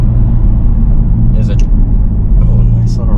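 A 2023 Hyundai Elantra N in sport mode rumbles with a loud, steady exhaust drone during a rev-matched downshift, heard from inside the car with a brief rise in engine note as people talk over it.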